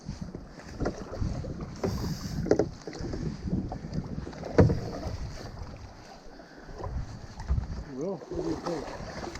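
A kayak drifts and paddles on a lake in Northern Michigan, with soft water sloshing and gurgling against the hull, wind buffeting a strapped-on action camera, and occasional bumps as the boat touches bottom.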